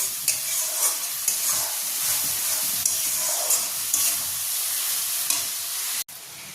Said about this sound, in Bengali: এবার এই মশলাটা ভালো করে যতক্ষণ না তেল ছেড়ে আসছে কষাতে হবে।